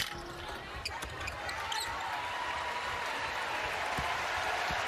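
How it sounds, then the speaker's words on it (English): UConn dribbles out the final seconds of a men's college basketball game against Villanova, with a few ball bounces on the hardwood under a loud, steady sellout crowd roar and scattered applause in the arena. "UConn dribbles out the final 15 seconds"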